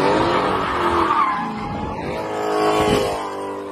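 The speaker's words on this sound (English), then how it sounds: "I love Dodge Charger drifts." A Dodge Charger drifting, its tires squealing in a loud sustained screech with rising and falling pitch over the engine's roar, close and continuous with no talk.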